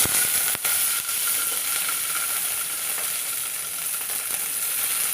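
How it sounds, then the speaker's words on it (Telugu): Green chillies frying in hot oil give a steady, loud, close sizzle that fills the whole stretch without a break. "ఆయిల్ బాగా హీట్ అయ్యాక పచ్చిమిర్చి వేసుకోవాలి."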